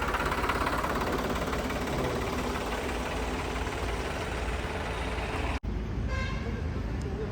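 A new 3600-2 tractor engine idles with a steady low rumble and rattling throb, close by, continuing after a brief cut near the end.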